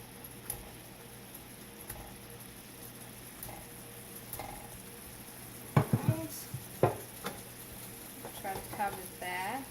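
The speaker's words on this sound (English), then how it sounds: "we'll go ahead and put our meatballs in this sauce" Meatballs dropped into a pan of spaghetti sauce, giving a few soft wet plops and splats near the middle and end over a steady low simmering hiss, with faint kitchen clatter.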